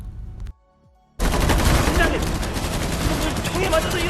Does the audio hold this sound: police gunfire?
yes